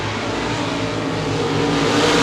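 RaceSaver sprint cars racing in a heat at Devils Bowl Speedway, a dense, continuous roar of several engines blended together, loud and steady throughout the short stretch.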